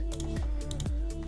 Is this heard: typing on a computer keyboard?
yes